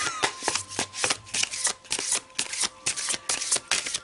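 An unpublished handmade tarot deck being shuffled, a rapid run of crisp papery card riffles and flicks repeating in quick bursts, close and clear with no talking.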